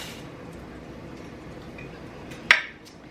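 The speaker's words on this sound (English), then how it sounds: "This glass container is giving me a little bit of a hard time." A glass container is handled in a kitchen while baked oatmeal is prepared. Quiet background shuffling leads to one sharp, bright clink near the end, followed by a short ringing tail.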